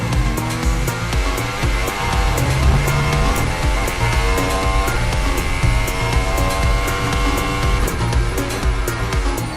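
Formula One cars, a Ferrari and a McLaren, race wheel to wheel with a continuous high-pitched engine whine rising and shifting in pitch, loud and sustained with layered tones from several cars.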